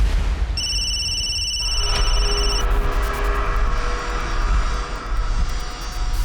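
A telephone rings with an incoming call, shrill electronic tones sounding for a couple of seconds over a loud, dramatic music bed.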